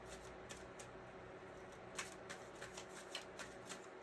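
Oracle cards being shuffled by hand, a soft run of riffling and flicking clicks with a few sharper snaps, quiet and close, with no talking.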